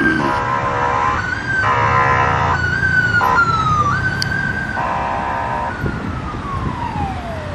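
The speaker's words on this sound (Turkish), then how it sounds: "hem ambulanslar hem itfaiyeler şu anda Taksim İlk Yardım Hastanesi'ne ilerliyor" Wailing and yelping sirens of ambulances and fire engines heading to the Taksim first-aid hospital fire in Istanbul, loud and continuous over heavy traffic rumble, with tones rising and falling as vehicles pass.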